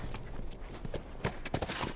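Horse hooves clip-clop in The Last of Us video game, a near, uneven run of soft thudding steps over a low background.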